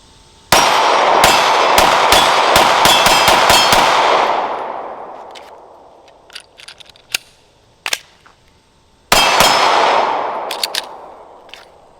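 A rapid string of loud, sharp shots from a pistol with an Arc Division Reactor ported slide and barrel rings out nearby, followed by scattered clinks of brass, then another pair of shots with ringing echo.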